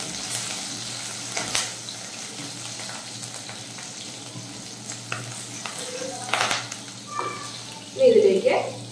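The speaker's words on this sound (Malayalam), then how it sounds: "നമുക്ക് അതിലേക്ക് ഇഞ്ചി, വെളുത്തുള്ളിയും പച്ചമുളകും ചെറുതായിട്ട് അരിഞ്ഞ് ചേർത്ത് കൊടുക്കാം." Chopped ginger, garlic and green chilli sautéing in hot oil for a tuna fish curry produce a steady close sizzle with intermittent stirring scrapes and a louder clatter near the end.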